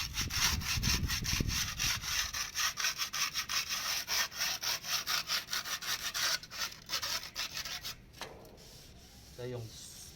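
A tool slowly scrapes dried cement off a painted wall in long, repeated rhythmic strokes, a rasping scratch close by, with a brief low knock near the start and no talking.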